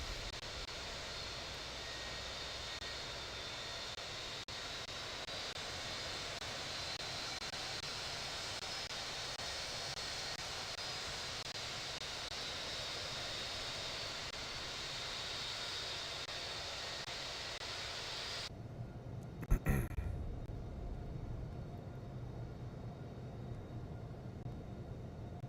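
Airliner taxiing to runway 8 in the Infinite Flight simulator game, a steady engine hum and broadband rush that holds for about eighteen seconds, then drops to a quieter low rumble after a brief sharp click.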